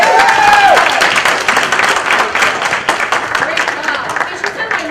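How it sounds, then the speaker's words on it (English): An audience at a holiday party breaks into loud, sustained clapping for a young performer, a steady wash of applause filling the room alongside a brief tone at the start. "Please give Kiara a round of applause."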